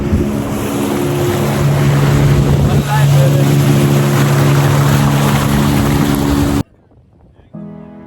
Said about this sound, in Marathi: ही लेक राईड संपण्याच्या मार्गावर आहे